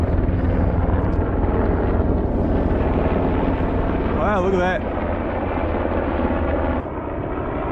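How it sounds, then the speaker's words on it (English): Several helicopters pass over a lake on a winter day, their rotor drone forming a loud, continuous low rumble with a brief whining tone in the middle, while a person speaks briefly nearby. "That's a lot of helicopters."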